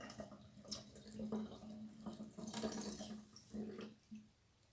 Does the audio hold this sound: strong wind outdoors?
no